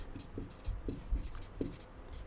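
Pen or chalk writing out physics notes during a lesson, soft scratchy strokes coming in short irregular bursts, fairly quiet and close, with no talking.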